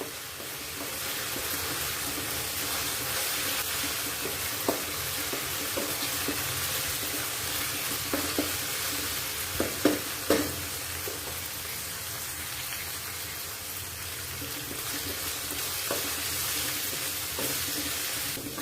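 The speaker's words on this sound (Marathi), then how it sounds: "हे सगळं चांगलं परतवून घ्यायचं आहे आपल्याला" Steady sizzling of food frying in a pan, with occasional soft clinks and scrapes of stirring, no talking.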